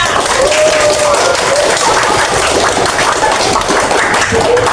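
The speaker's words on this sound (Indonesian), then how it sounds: "Tepuk tangan buat Muhammad Ihya" Classroom applause for a student in a seventh-grade Islamic studies lesson, loud, continuous clapping from many hands close by, with faint voices mixed in.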